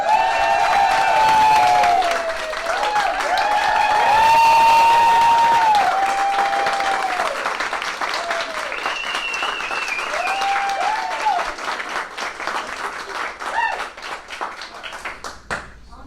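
Hearty audience applause with cheering voices and whoops rising over dense clapping, loud and close at first, then thinning out into scattered claps.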